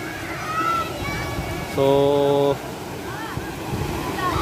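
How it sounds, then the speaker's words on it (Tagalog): Flowing river water at a Laguna bathing spot, a steady broadband rush with wind buffeting the microphone, a short tonal horn-like beep in the middle, and a voice speaking briefly. "Punta lang dito guys para maligo sa ilog."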